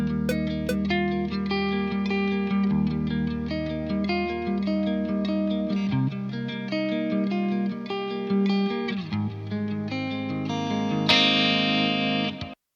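Clean electric guitar intro riff from a metal band's song, played as a steady melodic figure with rich sustained notes and a brighter, busier passage near the end, no voices.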